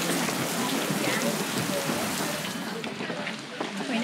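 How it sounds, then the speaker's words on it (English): Heavy rain in Ubud, Bali, a dense steady hiss of drops drumming on surfaces nearby, continuous and loud throughout, with faint talk under it. "since it's raining pretty hard now"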